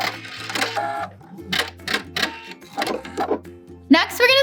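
Sewing machine stitching and backstitching a dress seam in short, mechanical bursts, close and moderately loud, with a person talking between the runs.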